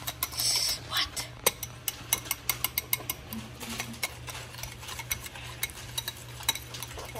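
Thick dalgona chocolate whipped cream, made with Hershey's cocoa and whipping cream, being stirred in a bowl: a steady run of close, sharp scraping clicks and taps from the utensil, with faint background noise.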